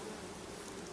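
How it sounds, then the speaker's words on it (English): Honey bees buzz at an open beehive box, a faint, steady hum of many wings with no clear individual passes and no talk. "Bee wings."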